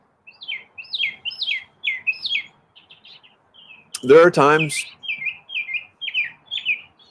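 A pet bird chirps in short, repeated tweets throughout, nearby and fairly clear, with a brief stretch of someone talking over it in the middle.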